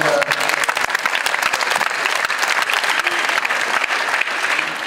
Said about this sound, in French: Merci d'applaudir Tish Boga